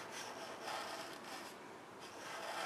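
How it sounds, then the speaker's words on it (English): Slow, light scraping along a tear line in a Mercedes metal door, a steady soft rasping rub that swells and eases across the stretch, close and continuous with no talk. "scraping right along that line, very slow"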